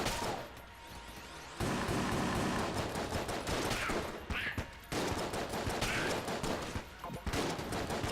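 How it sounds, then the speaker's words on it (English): Rapid, sustained video-game gunfire with homing shots in Enter the Gungeon, a dense continuous barrage of shots with a brief lull near the start and short pauses later, loud and close. "I'm just gonna shoot, you know?"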